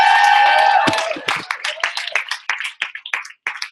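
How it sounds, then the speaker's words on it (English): Audience applause and clapping rise after an announcer's call, starting dense and then thinning into scattered, irregular claps that taper off over a few seconds. The crowd sounds fairly close. "Give him a round of applause."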